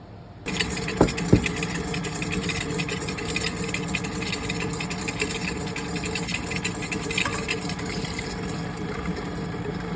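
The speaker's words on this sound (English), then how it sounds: "start the mixer as I drizzle the milk in" A stand mixer switches on and runs steadily with a continuous motor whir and hum while kneading bread dough for cinnamon rolls, close and fairly loud, with no talking.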